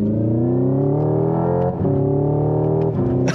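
A Hyundai Ioniq 5 N electric hot hatch plays its synthetic Ignition drive sound mode, a loud, droning engine-like tone of rising harmonics with brief dips like gear shifts, heard close and continuous.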